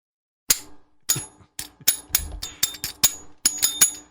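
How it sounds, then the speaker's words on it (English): A series of sharp, bright metallic rings struck irregularly, about a dozen quick hits with ringing overtones, some clustered close together near the end. "I'll ring the bell."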